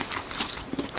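Eating food in the video game Ark: Survival, a quick series of crunchy bites and chewing sounds, close and moderately loud, with no talking.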